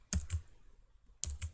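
Two brief bursts of keystrokes on a computer keyboard while entering constraints in a CAD sketch, each a quick pair of clicks separated by a short pause, close and clear with no talking.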